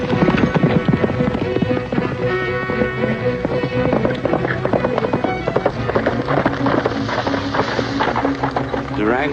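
Horses' hooves clip-clop in a busy, loud old western scene, with rapid galloping beats mixed into dense sound and music, and voices talking over it.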